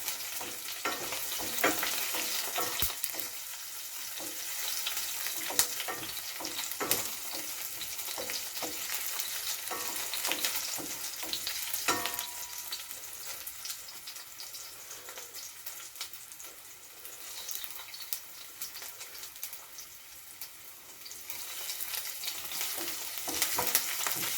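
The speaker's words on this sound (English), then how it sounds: "So this is frying up nicely" Steady, dense sizzling of onions and aromatics frying in a hot pan over a medium flame for curry conch stew, with occasional sharp crackles and pops, close and continuous throughout.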